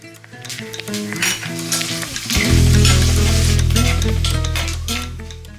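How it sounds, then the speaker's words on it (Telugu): Fenugreek seeds, dried red chili pieces, asafoetida and curry leaves frying in a tempering for carandas fruit dal, with a steady loud sizzle, utensil clinks and stirring, over background music. "ఇలా ఎర్రగా వచ్చాక 2 ఎండుమిరపకాయ ముక్కలు వేసి కొద్దిగా ఇంగువ, కరివేపాకు వేసి వేయించి పప్పులో కలుపుకోవాలి"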